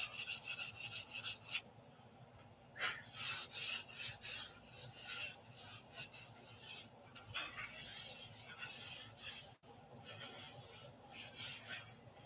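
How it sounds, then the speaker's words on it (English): Someone hand-sands scratches with 500-grit sandpaper, giving a quiet run of raspy back-and-forth strokes in irregular bursts, close and alone. "we're gonna sand it with 500, I guess"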